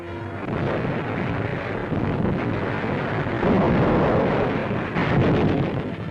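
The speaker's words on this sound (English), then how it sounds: "the roar of battle ensues" A dense, continuous rumble of distant explosions and gunfire, from the 1943 WW2 battle of Tarawa, rolls on with heavy low booms swelling and fading, like a battle heard from afar.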